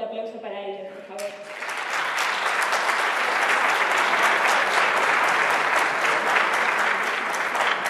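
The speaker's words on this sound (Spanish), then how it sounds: "un muy fuerte aplauso para ellos, por favor" A voice speaks briefly in Spanish, then loud sustained applause from a large concert audience breaks out and continues evenly, at a Lenten concert in Socuéllamos.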